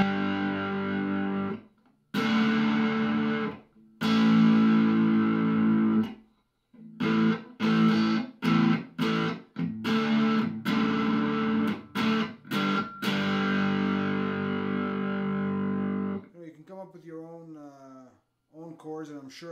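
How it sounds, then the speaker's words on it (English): Electric guitar strikes open power chords through heavy distortion, several loud ringing strums separated by brief pauses and choppy hits, ending in a wavering sustained fade. "Let's add a little bit of distortion just to hear what, because those power chords that he uses, the open power chords, they ring out a lot"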